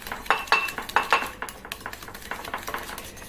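Mustard mayonnaise being whisked in a bowl, a whisk clinking rapidly and rhythmically against the sides in quick bursts, close and fairly loud, with no talking.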